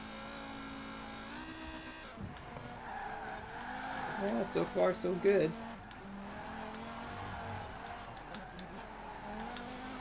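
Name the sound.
Volvo 850 car engine racing in a dirt racing video game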